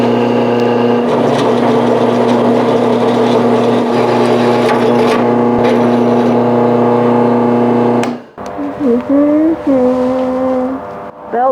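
A bandsaw cuts through an aluminum workpiece for a homemade Shovelhead clutch hub tool, a loud steady whining grind with droning hum for about eight seconds, then the blade runs free with a lighter rising whir.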